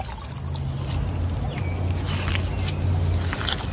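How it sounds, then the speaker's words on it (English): Water from higher ground trickles down through a hose into a garden pond. It makes a continuous soft, splashy wash that holds steady without pause, close and moderately loud. "the water from up there at the top is gonna come down through the hose and get down into the pond"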